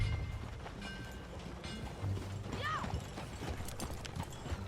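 Horse hooves from Red Dead Redemption 2 clip-clop in a steady walking rhythm over a low background rumble, with a brief rising and falling cry partway through.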